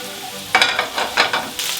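Liver fries in a pan on full heat at about 200°C as it is turned over and over: a steady, close sizzle swells into several loud, crackling bursts with each flip, with no voices.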